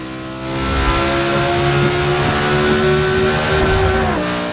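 Loud high-pitched 5.2-litre V10 supercar engine revving in Forza Motorsport 6, a sustained wail with rising harmonic tones, echoing in a tunnel, with no voices.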